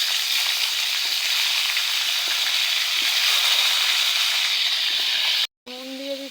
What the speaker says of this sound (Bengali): মাছ ভাজার তেলে কয়েকটা জিরা ফোড়ন দিব, দিয়ে ফুলকপি আলুগুলো ভেজে নেব।